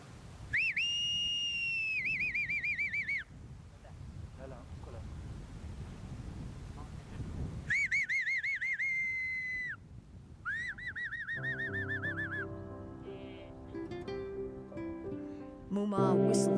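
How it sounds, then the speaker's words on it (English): A person whistles to call baby Tibetan antelopes at a fenced animal rescue facility in Tibet: several sustained, wavering high whistles come in bursts separated by pauses, fairly close, over light wind and background noise. "whistles and baby antelopes come running"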